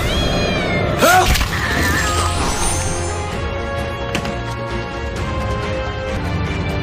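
A cartoon cat meows loudly near the start, with a rising and falling call that sits over layered animated music and effects, then fades into a busy score.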